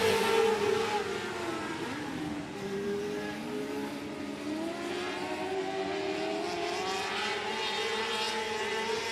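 Race cars roaring around the 105 Speedway oval during a heat race, a continuous layered engine drone with shifting pitches as several cars pass, loud and sustained.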